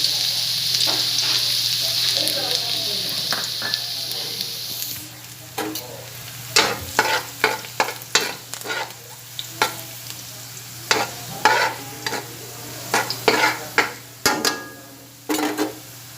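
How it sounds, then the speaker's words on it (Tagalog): Garlic sautés in a pan for Kapampangan-style stir-fried bitter gourd, with a loud hiss at first, then a steady sizzle broken by a series of sharp, irregular clanks and scrapes from stirring. "Ito na, gigisa na natin yung bawang."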